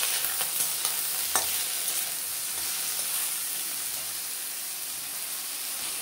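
Okra with turmeric and salt being stirred in a frying pan, giving a steady close sizzling hiss broken by scraping and light taps of the spoon against the pan.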